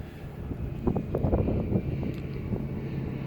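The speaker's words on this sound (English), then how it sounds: "See if I can cut down on the wind because it's windy." Wind buffeting a microphone covered by a sock high in the mountains of Bridger-Teton National Forest at about 9,500 feet, a steady low rumble with gusty surges throughout.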